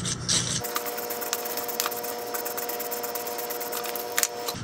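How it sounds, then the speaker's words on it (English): A stiff shoe brush scrubbing rust off the outside of an electric motor armature in a workshop, a steady close scratching rasp with faint rhythmic strokes and a few sharper scrapes. "So I decided to clean the outside of the armature because it had some rust on it."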